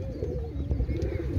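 A male Pakistani double pigeon coos close by in a short, low, throaty burst of repeated rolling notes, with no other voices.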